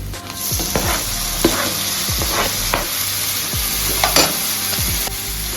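Onions and chopped tomato sauté in a pan for karuvadu thokku, sizzling steadily up close while a utensil stirs and scrapes at intervals.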